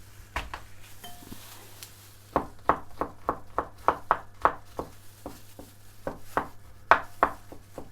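Knife chopping garlic cloves on a board, a few scattered taps and then a steady run of sharp, evenly spaced chops, close and distinct over a faint background hum.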